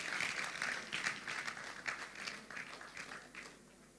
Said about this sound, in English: Keep clapping as Odd Felix makes his way here